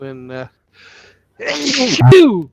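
A single loud, close sneeze bursts out right after someone speaks, with a short breathy intake before it.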